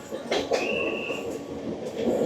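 A train on the Araku mountain railway rolls along with a steady rumble, a brief high wheel squeal and a few sharp knocks, heard from inside the moving carriage.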